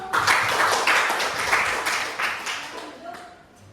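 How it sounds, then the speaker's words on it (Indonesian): Children in a classroom clap their hands together in a quick, rhythmic pattern of sharp bursts, loud and close, with some voices mixed in. "Tepuk tangan dulu."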